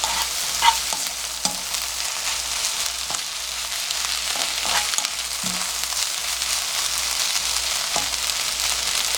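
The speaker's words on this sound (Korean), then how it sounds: "불을 낮춰놓고 하면은 약간 양파가 살짝 누르면서 양파가 이렇게 익어가거든요." Onions cooking in a pan over low heat give a constant, moderate sizzle, with occasional quiet taps and scrapes of stirring close by.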